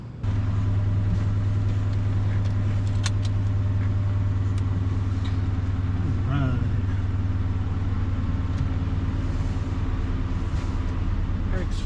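A car rolling along on freshly fitted drilled and slotted brakes, with a steady, loud low engine drone and road rumble throughout, plus a few brief higher squeaks and knocks partway through.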